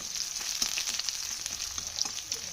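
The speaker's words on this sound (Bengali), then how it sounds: "পেঁয়াজ কুচি, কাঁচা লঙ্কা কুচি আর গোটা জিরে দিয়ে ভালো করে এটাকে নাড়াচাড়া করে দিলাম" Chopped onion, green chilli and whole cumin frying in a wok, a close, steady sizzle with light tapping and scraping as the mixture is stirred.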